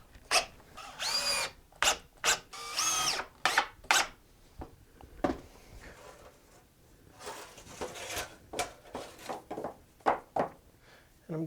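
A power drill drives screws to fix a part while joining the back of a steel-string acoustic guitar in a workshop, with repeated close whirring bursts of uneven length separated by short quiet pauses.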